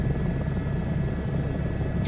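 A helicopter flying in Microsoft Flight Simulator 2024, a steady dense rotor and engine drone that stays loud throughout with no change and no talk.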